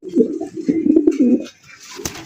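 Pigeons coo repeatedly in a close, loud run of low, throaty calls at a pigeon seller's stall, fading near the end and followed by a brief sharp knock.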